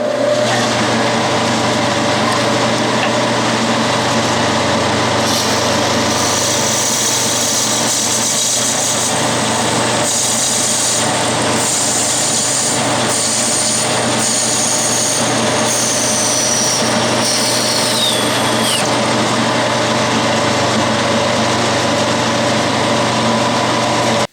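An Atlas metal lathe parts off a steel workpiece, its steady motor hum running throughout while a high, thin cutting whine rises for about twelve seconds in the middle and then stops.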